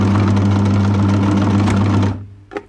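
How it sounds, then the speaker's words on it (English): A sewing machine runs a zigzag stitch along the side seam of a stretch top, a loud close continuous mechanical hum and rapid clatter that stops after about two seconds, followed by a faint rustle. "you're just using a zigzag stitch to sew up your side seam"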